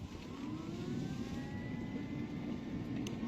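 A Crosser TR-1 600W electric scooter rides in first gear, giving a steady whirring motor drone with a continuous rush of wind noise and a faintly rising whine, with no talking.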